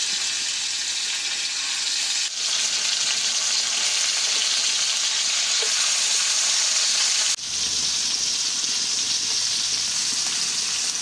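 Kerala-style pepper fish frying in a pan and being flipped over, a loud continuous sizzle with two brief breaks as the pieces are turned, no voices.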